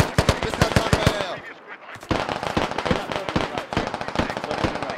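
A firefight in the military shooter game Squad: dense, rapid machine-gun bursts and sharp cracks with heavy explosion-like thuds, loud and nearly continuous apart from a brief lull, with voices faintly mixed in.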